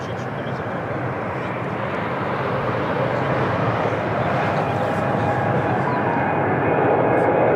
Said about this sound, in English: Another Embraer, take off.